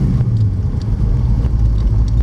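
A 1933 Ford Ranchero with a 5.0 Tri-Power V8 pulling away in first gear, its deep engine rumble steady and close with light uneven throttle pulses and no talk.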